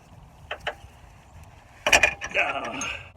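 A wrench works a control arm bolt on a Dodge Grand Caravan, giving a few short ratcheting clicks and then a louder burst of metallic creaking and clicking as it tightens.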